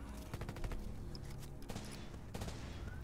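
Two quick gunshots crack out amid busy game sounds and a steady low hum in Red Solstice 2, followed by another sharp burst a moment later.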